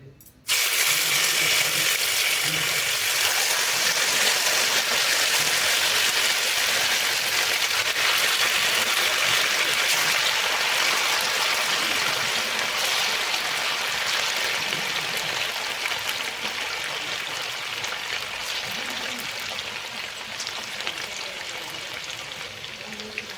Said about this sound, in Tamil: இப்போ நம்ம எடுத்து வச்சுருக்கிற சிக்கன் நம்ம போட்டு பொரிச்சிக்கலாம்.